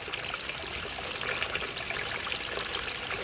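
Water of the Constitution River in Barbados flows steadily, a continuous broad rushing and trickling wash heard up close with no talk over it.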